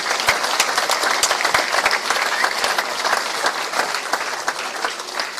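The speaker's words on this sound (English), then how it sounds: "Could we have a quick round of applause for Philip" A dinner crowd at a county cricket club's end-of-season event applauds Philip from Thatcher's: dense, loud clapping from many hands, sustained and even for several seconds with sharp individual claps standing out near the front.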